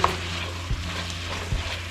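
Ground beef sizzles softly in a pan while a utensil stirs and chops it, with two dull scraping knocks against the pan over a steady frying hiss.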